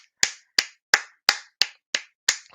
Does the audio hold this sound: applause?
yes